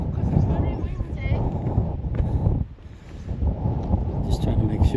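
Strong coastal wind buffets the microphone in a loud, continuous low roar, broken by a brief lull near the middle, while people talk over it.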